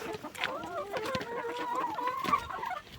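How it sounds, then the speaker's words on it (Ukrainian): Hens cluck and murmur while feeding, several birds close by making continuous soft, overlapping clucks with a few faint other sounds. "Їжте, не обляпайтесь, да, курочки?"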